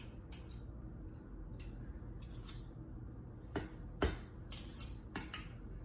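A kitchen knife scoops an ingredient during homemade white bread preparation, giving a string of light metallic clicks and taps of varying loudness, close up, over a steady low background hum.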